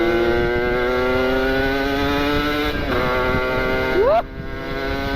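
Motorcycle engine pulling hard at full throttle, a loud close steady drone with rising harmonics that dips briefly as a gear changes, then climbs again before cutting back sharply near the end.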